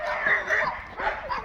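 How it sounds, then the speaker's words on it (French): Dogs of many kinds, including German shepherds, bark and yip at an outdoor dog event, a busy, close mix of barks and whimpers over crowd noise. "il y a des super beaux chiens partout"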